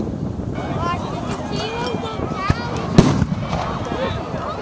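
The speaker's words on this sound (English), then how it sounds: "Artillery" Cannon fire at a Civil War battle reenactment raid in Brooksville, a sharp boom standing out among scattered pops over constant wind and crowd murmur, with people talking nearby.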